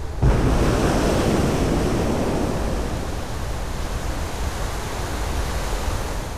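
A loud, steady roar of water rushes downstream after release from a dam, a broad wash of noise that starts abruptly and holds for the whole stretch, with no voices.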